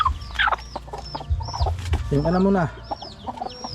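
Chicks and hens on a small backyard farm cluck and peep in quick, close bursts, with a longer rising call near the middle; a person speaks briefly over them.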